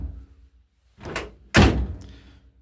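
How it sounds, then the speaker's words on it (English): A classic car's front door under restoration is swung shut, a soft first contact followed by a loud, solid close-range thunk and short rattle. "the front door closes really nicely now"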